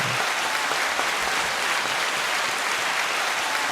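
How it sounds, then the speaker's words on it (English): A small audience claps steadily for a few seconds during a casual tabletop show, an even, continuous patter of hands with no voices over it. "The people are clapping."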